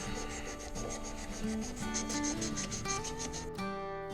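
A wooden slimline pen blank is sanded with fine-grit sandpaper while spinning on a lathe, giving a steady close rubbing hiss over the lathe's tonal hum, with pitch shifts near the end.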